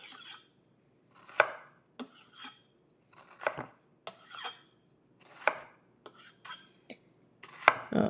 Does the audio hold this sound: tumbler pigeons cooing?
no